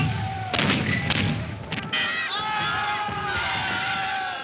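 A cannon fires three-pound cast-iron round shot on an 18th-century battlefield: a couple of heavy thumps come early, followed by a steady crowd-like roar and shouting.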